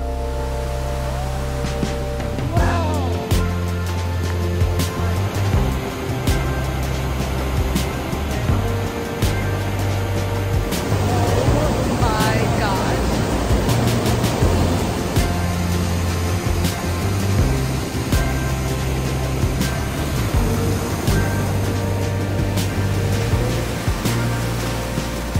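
Waterfall in an autumn forest beside a river at peak fall foliage, a steady broadband roar of falling water that fills the whole clip at even loudness, with no talk.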